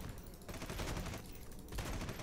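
Cerberus gun in Red Solstice 2 blasting away at a door, heard as dense, continuous bursts of rapid gunfire with a short lull near the middle, loud and steady throughout.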